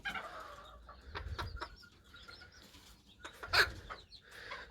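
A small Serama hen gives a few soft clucks and squawks while being held, with brief wing flutters and handling noise, close and fairly quiet.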